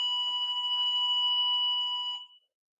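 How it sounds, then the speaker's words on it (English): A building alarm sounds a loud, steady electronic tone during a live matchplay event broadcast, holding for about two seconds before cutting out into silence. "Apologies for the beeping."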